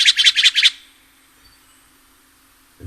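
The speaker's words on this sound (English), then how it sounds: "one of the things we can do is listen to what the bird sounds like." A Steller's jay call played back from a bird app, a quick run of about six harsh, high chirps in under a second, followed by near silence.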